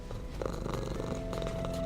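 A cat in the Hades II game purrs steadily and close, a soft continuous rumble with a faint musical tone running underneath.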